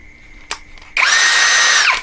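An OSUKA 5in1 OCD701-D1 cordless drill with interchangeable heads spins up with a sharp click, then runs at a high steady whine for about a second before winding down, close and loud.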